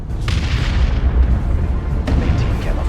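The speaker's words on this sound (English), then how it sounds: "Placing explosives. Ready to detonate, Commander." Explosives going off in Warhammer 40000: Dawn of War II: deep, rumbling booms with two sharper blasts standing out, one near the start and one about two seconds in, over continuous low roar, with no talk.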